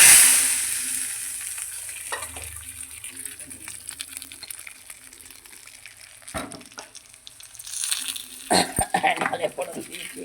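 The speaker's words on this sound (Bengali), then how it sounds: "ডালে ফোড়ন দিচ্ছি" Mustard seeds and dried red chillies tempered in hot oil for matar dal with tomato and coriander leaves: a sharp initial sizzle fading to a low crackle, then sudden louder spluttering bursts near the end, close up.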